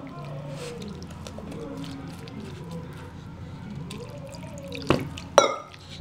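Homemade paneer made with lemon is rinsed in fresh water in a home kitchen, with soft sloshing and dripping at low level, then two sharper splashes or knocks near the end.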